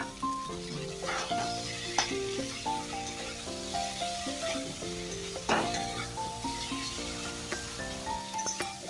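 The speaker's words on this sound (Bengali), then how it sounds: "যখন তেলটা ছাড়বে তখন বুঝবেন যে মশলাটা আমার ভাজা হয়ে গেছে।" Spice paste frying in hot oil for a banana-flower curry, a steady sizzle with scraping and clinking of a spoon stirring the pan, close and continuous without talk.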